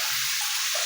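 A bathtub filling from the tap, already about halfway full, gives a steady, close rush of running water with no other sounds.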